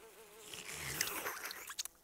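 Cartoon bee buzzing in an animated comedy scene about eating bees, a close, wavering insect drone that rises and swells over about two seconds with scattered light clicks and rustles near the end.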